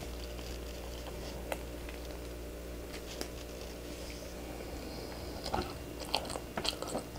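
Crisp salt bread with a crunchy bottom, a pistachio-cream version, is bitten and chewed close up, giving soft crunches and crackly chewing sounds over quiet room tone.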